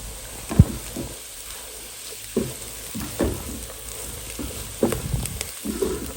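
Vegetable bhaji sizzles in a pan as coriander leaves are added, with a steady frying hiss broken by scraping and stirring knocks of a spatula.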